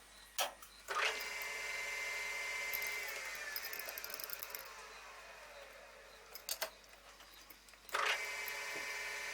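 A resharpened center drill bit with a straight-ground edge bores into a workpiece on a lathe fitted with a live center: a steady metallic whirring grind with a shifting whine, and sharp clacks near the start and again near the end.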